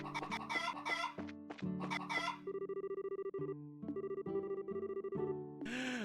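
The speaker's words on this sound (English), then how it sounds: "Chase the chickens!" Chickens in a video game cluck in rapid, clipped bursts over tonal game music, with short squawks and a crowing-like call near the end, loud and synthetic in character.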